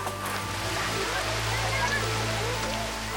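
Hail drumming on corrugated iron sheets beside a covered kiln at a medieval building site, a dense, steady rattling hiss that holds unbroken throughout with a low hum underneath.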